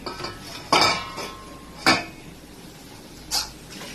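Kitchen utensils clinking while tea is being made: three separate metallic clanks of pots and cutlery, close and fairly soft, spaced about a second apart against quiet room noise.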